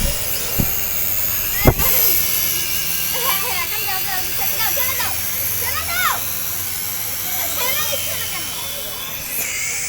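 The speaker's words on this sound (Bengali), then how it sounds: "ড্রোন উড়াচ্ছে" A small drone flies outdoors, a steady high whining buzz that persists throughout under voices talking, with a couple of sharp knocks.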